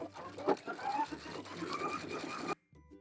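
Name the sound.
sewing machine stitching fabric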